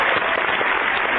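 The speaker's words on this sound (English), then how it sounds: "Round of applause." Dense, steady applause from a radio show audience, a continuous wash of clapping at even loudness, close and alone with no talk over it.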